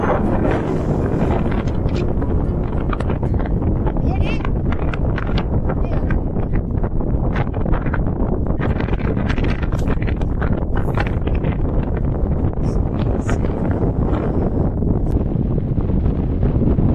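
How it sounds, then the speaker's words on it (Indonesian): Strong wind on a mountain at night roars and buffets the microphone in a constant, loud rumbling blast with gusty flutters throughout, close and unbroken. "dengan santapan pembuka angin kencang yang senantiasa menampar suara"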